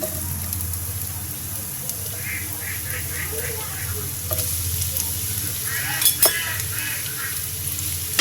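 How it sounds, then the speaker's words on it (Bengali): Prawns and grated coconut frying as the filling for stuffed pointed gourd give a low steady sizzle with stirring scrapes throughout. A voice speaks over part of it. "চিংড়ি মাছ দিয়ে নারকেল দিয়ে এটা ভেজে নেব, এটা পুরটা তৈরি করে নেব।"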